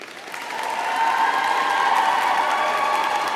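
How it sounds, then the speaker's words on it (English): A graduation audience in Rochester Cathedral applauds, the clapping rising from a soft start into a full, sustained roll that fills the reverberant space and holds steady. "I please ask you to applaud your friends, family and supporters."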